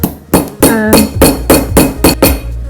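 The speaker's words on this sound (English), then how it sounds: "So I'm going to put the screwdriver here." A screwdriver is hammered into a coconut to open holes, giving about seven sharp, loud knocks in a steady rhythm, each with a short hard ring.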